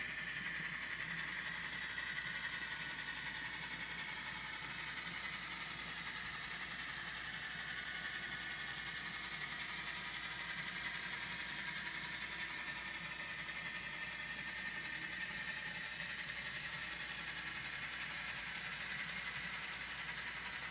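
A model train locomotive runs on a home layout with a steady, faint mechanical whir and hum that continues evenly without pause.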